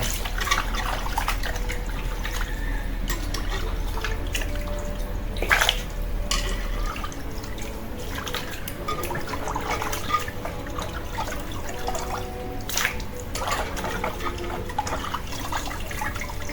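Pangas fish being washed by hand in water, a steady run of trickling, splashing and dripping with occasional louder sloshes, close by and without talk.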